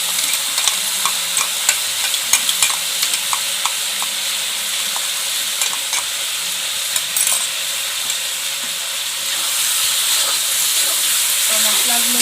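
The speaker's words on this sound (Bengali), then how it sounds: "তো মশলাগুলো দিয়ে ভালোভাবে নাড়াচাড়া করে নেবো, যাতে মশলাগুলো মাংসের সাথে ভালোভাবে মিশে যায়।" Village-style country chicken fries in a pan with a paste of ginger, garlic, cumin and dried and green chillies while being stirred, a steady close sizzle with frequent light spoon scrapes and clicks that grows louder near the end.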